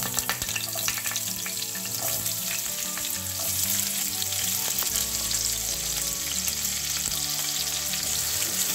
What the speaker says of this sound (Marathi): हे आपल्याला हलकसं परतवून घ्यायचं आहे, खूप कांदा इथे आपल्याला होऊ द्यायचा नाहीये तेलामध्ये।